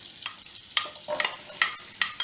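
A shallot sweats in unsalted butter in a pan, soft frying sizzle broken by a few stirring scrapes and clacks of a utensil, close and fairly quiet.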